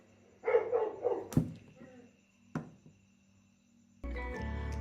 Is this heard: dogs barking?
yes